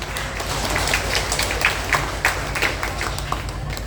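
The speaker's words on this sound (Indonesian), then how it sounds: "Boleh Pak kasih tepuk tangannya?" Applause from the audience at an annual cooperative meeting, a short burst of scattered clapping at moderate level over a low background hum.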